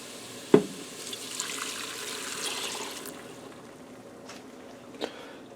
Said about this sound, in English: Alright, now I have 2 cups of chicken broth.